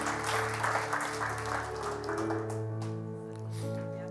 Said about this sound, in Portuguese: Você pode dar uma salva de palmas a esse único.